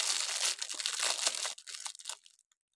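Crisp crinkling of a plastic bag handled up close, busy at first, then thinning into a few scattered rustles before falling silent.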